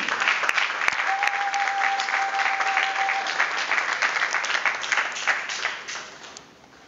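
A crowd applauds steadily at a book launch, a dense wash of clapping that holds for several seconds and then fades away toward the end.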